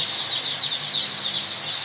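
A dense, continuous chorus of high chirping and peeping from young chickens crowded together on a poultry farm, fairly close and steady throughout with no pauses.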